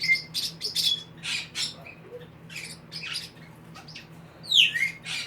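An owl finch being held for wing clipping and DNA sampling gives repeated sharp, squeaky chirps and squawks in irregular bursts, close and fairly loud over a low steady hum.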